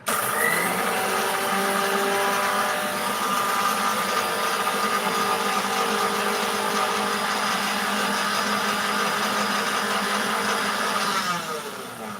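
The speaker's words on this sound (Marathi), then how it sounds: "ह्याला आपण मिक्सरमध्ये ग्राइंड करून घेऊ" A kitchen mixer grinder runs continuously, grinding cumin seeds with a steady loud motor whine and rattle for about eleven seconds before winding down at the end; no talking.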